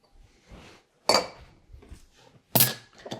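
Elegant glassware clinks and knocks while being set out for a holiday milk punch cocktail, two sharp bright chinks standing out among softer handling taps, close by with no talking.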